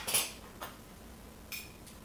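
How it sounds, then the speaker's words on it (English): A utensil taps and scrapes against a dish while pasta sauce is spread over halved English muffins, a few brief clinks, two close together early and two later, fairly faint and with no talk. "We're going to spread it evenly across the English muffins"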